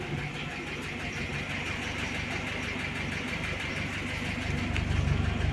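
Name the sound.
car engine idling with knocking worn used camshaft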